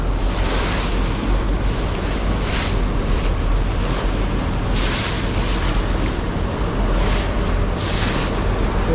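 Big sea waves churn and crash around a fishing boat out on the open sea during a prawn fishing trip. Roaring, continuous water and heavy wind buffeting the microphone fill the whole stretch, with surges every second or so.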